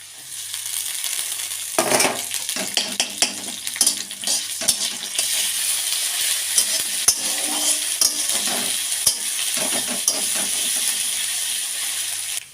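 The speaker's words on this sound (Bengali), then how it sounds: "পেঁয়াজটা ভাজা ভাজা হয়ে গিয়েছে, এবার আমি এতে আদা রসুন বাটাটা দিয়ে দেবো।" Loud steady sizzling and hissing of ginger garlic paste frying with browned onions in a pan, with scraping stirring sounds throughout.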